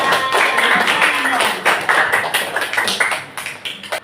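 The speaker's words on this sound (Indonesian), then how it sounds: "Oke, tepuk tangan dulu untuk kita semua." Classroom of ninth-grade students clapping hands: a burst of dense clapping that settles into looser, uneven claps and taps, with faint voices mixed in.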